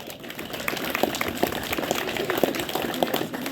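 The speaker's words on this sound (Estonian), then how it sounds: "Kallid rattalised, teeme Hasso Kommerile suure aplausi" An outdoor audience at a bicycle tour event applauds a speaker, with moderate, scattered clapping that continues steadily at medium distance without voices on top.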